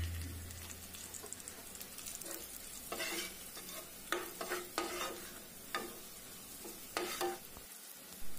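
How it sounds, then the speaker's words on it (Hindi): Morel mushroom curry with coriander and salt is stirred in a pan, a soft sizzle running underneath scattered scrapes and clinks of the spoon, fairly quiet and close with no voices. "तथा आवश्यकता अनुसार नमक डाल लेंगे और इसको चलाते रहेंगे।"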